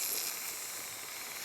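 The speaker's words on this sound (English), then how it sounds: "And there's that fizzing noise." Jars of freshly home-canned dill pickles fizzing, a close, continuous hiss that holds at a steady level throughout, with no talking.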